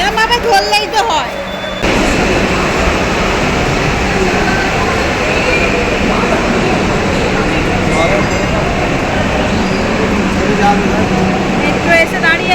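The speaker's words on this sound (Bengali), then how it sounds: "মেট্রো এসে দাঁড়িয়ে আছে।" Kolkata metro train pulling into a station, a steady loud rumble and hum of the carriage filling the clip with a brief quieter stretch at the start and a voice talking over it.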